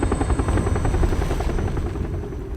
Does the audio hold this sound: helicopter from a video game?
yes